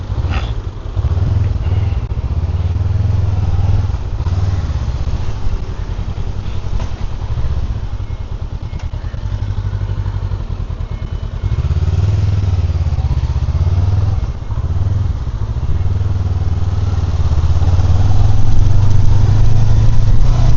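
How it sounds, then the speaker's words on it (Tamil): A motorcycle engine rumbles continuously nearby, a low, throaty drone that shifts slightly in pitch as the bike rides along, growing a bit louder toward the end. "அவன் வந்து ஒரு நம்ம ஏகே மாதிரி, தலை ஏகே மாதிரி சும்மா பைக் புரியர"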